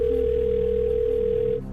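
A steady telephone dial tone hums loudly and continuously as a phone-a-friend call is placed on a Who Wants to Be a Millionaire game-show set, cutting off at the end.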